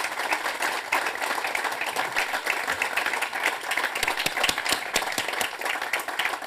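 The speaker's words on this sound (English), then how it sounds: "Round of applause." A conference audience in Essex applauds its panelists, sharp individual claps standing out within a continuous, moderately loud patter that lasts throughout.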